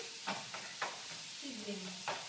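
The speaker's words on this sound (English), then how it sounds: "Sizzling." Faint sizzling from a pan of Thai food being stir-fried, with several short scraping stirs and a brief low hum.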